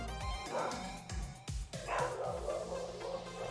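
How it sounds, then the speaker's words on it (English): A dog barking repeatedly in quick succession, sharp close barks under a steady background of racing game engine sound from GT Sport. "Just in case you hadn't heard the dog bark yet today,"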